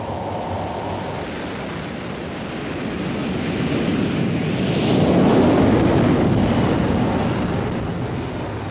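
A broad, roaring rush of jet engine noise as a jet launches from a US Navy aircraft carrier, reaching 270 km/h in two seconds, swells steadily, peaking loudly midway before easing slightly, heard from a distance without voices.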